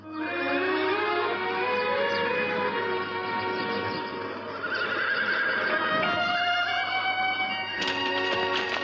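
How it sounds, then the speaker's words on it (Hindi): A horse whinnies loudly and close, with long wavering neighs stretching across several seconds over a steady low hum, and no voices. "घोड़ा ले आया।"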